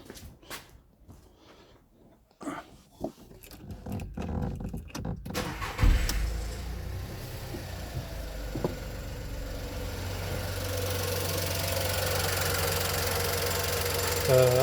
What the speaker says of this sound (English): I'm going to start the engine and see the fuel injector's